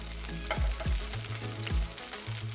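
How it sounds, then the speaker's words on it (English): Food sizzles steadily in a pan, close and continuous, with a few low thumps mixed in and no voices. "So I'm just going to let that saute."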